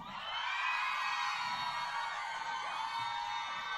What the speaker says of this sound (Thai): ขอเสียงกรี๊ดเป็นกำลังใจอีกหนึ่งรอบดังๆ ครับ